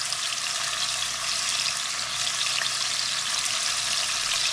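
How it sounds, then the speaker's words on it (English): Pieces of pork tenderloin browning in oil in a pan, a steady bright sizzle that holds evenly throughout with no talking over it. "now in that same oil, we're going to cook the pork tenderloin pieces, and we're just going to lightly brown those as well"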